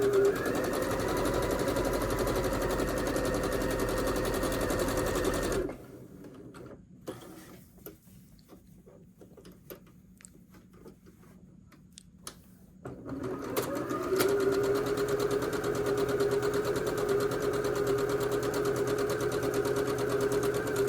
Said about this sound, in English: Now we're going to go ahead and sew 1/4 inch away from that drawn line.